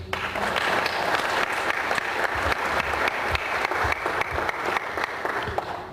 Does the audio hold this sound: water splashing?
no